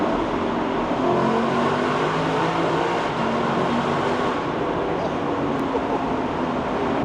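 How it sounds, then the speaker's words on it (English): A Lexus LC500 with a naturally aspirated engine revs loudly and continuously from close by, holding a dense, throaty roar with slight rises and falls in pitch and no talking over it. "Naturally aspirated engines just sound so amazing."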